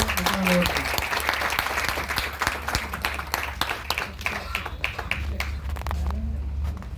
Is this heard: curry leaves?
no